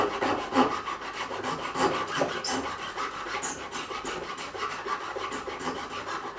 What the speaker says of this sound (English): flat file, safe side to the base